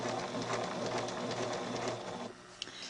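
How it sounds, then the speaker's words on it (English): A sewing machine fitted with an applique foot stitches doll fabric in a steady, dense mechanical whir close up, running continuously before slowing and stopping near the end. "Now I want to sew exactly on the purple line. That's where this little applique foot comes in so handy."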